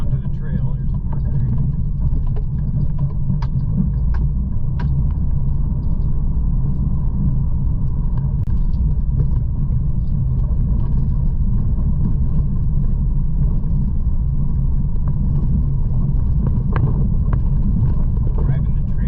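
A car drives along the Oregon Trail on a rough back road, giving a steady low rumble with wind buffeting throughout and a voice talking over it.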